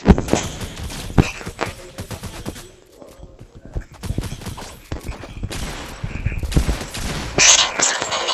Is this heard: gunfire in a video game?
yes